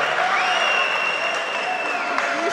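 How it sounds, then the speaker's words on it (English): A crowd at a jiu-jitsu match at the Pan Championship in Kissimmee, Florida applauds loudly, with a sustained wash of clapping and cheering and whistles cutting through. "The crowd here in Kissimmee, Florida loves it."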